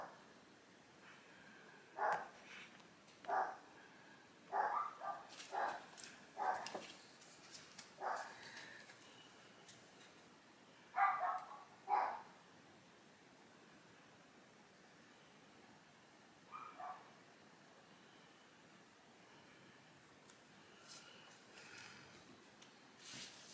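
Several dog barks, sharp and moderately loud, come in short clusters during the first half, then one more bark later, over a quiet hissy background.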